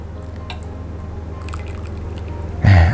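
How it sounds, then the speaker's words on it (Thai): Soup broth poured over beef in a hotpot: a brief, close liquid splash and gurgle near the end, following a low steady hum with faint drips. "แล้วเราก็เติมน้ำซุปลงไปครับ"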